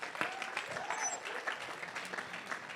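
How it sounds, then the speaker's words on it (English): Applause from an audience at a networking summit fills the moment, a steady, moderately distant patter of many hands with faint crowd murmur and whistles mixed in. "Let's give Jen Sullivan a round of applause"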